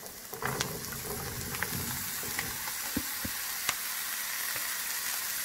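Asparagus and zucchini sizzle steadily in a hot frying pan, a continuous close hiss dotted with small pops and the occasional clink of stirring.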